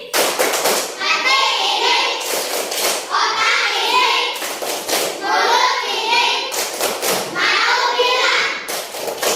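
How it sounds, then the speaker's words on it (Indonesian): A class of young pupils repeats a rhythmic thank-you clap in an Indonesian classroom: groups of sharp, loud claps recurring in a regular cycle, mixed with the children chanting together. "Satu kali lagi tepuk terima kasih."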